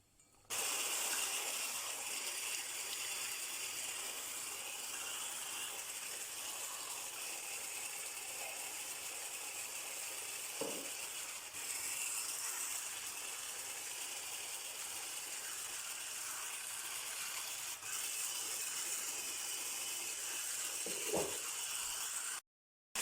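Eggs being beaten with sugar for a kefir pie, heard as a steady, continuous whirring that runs almost unbroken for over twenty seconds at an even, moderate level, without speech.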